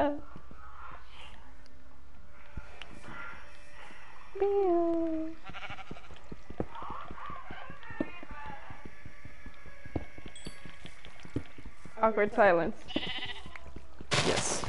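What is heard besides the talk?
sheep bleating in Minecraft video game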